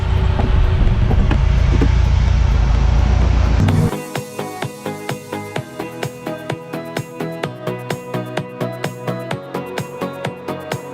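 A parked Lamborghini left running: a loud, broad rumble at first, then it drops to a quieter low idle under a steady, even ticking that repeats many times.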